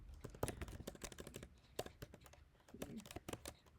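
Keys tapped on a computer keyboard while entering HTML formatting markup, a quick uneven run of close, crisp clicks and clacks with short pauses, no voice over it.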